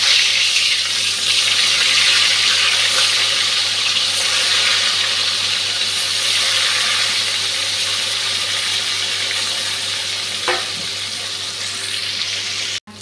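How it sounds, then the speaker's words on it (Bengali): Katla fish frying in hot oil with spiced batter, giving a steady, loud broadband sizzle that holds for the whole stretch, with one small pop near the end and no voices. "তেলটা গরম হয়ে গেছে, মাছটা ভাজতে দিয়ে দিচ্ছি।"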